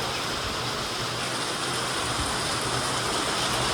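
Heavy rain pours steadily at a temple during a long downpour, a dense unbroken hiss with no voices.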